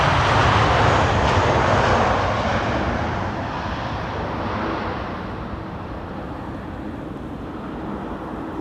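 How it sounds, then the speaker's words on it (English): An airliner lands on Schiphol's Polderbaan runway 18R using idle reverse thrust: a loud, broad jet roar that slowly fades and thins as the aircraft slows. "Idle reverse landing."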